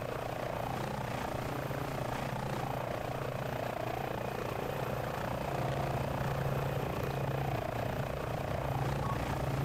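Simulated Airbus H145 police helicopter in Microsoft Flight Simulator 2020, a steady whirring rotor and turbine drone with a faint rhythmic thump that runs unbroken at moderate level throughout.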